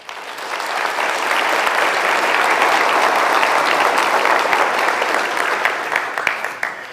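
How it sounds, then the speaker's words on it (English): Sustained, loud applause from a large audience at a PhD graduation ceremony, rising quickly and holding steady with dense clapping, then tapering slightly at the end. "For that, you really deserve another round of applause."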